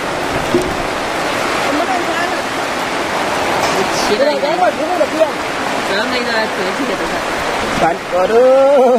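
Heavy rain pouring steadily outdoors at a rural cattle shed, a dense wash of hiss with voices talking over it.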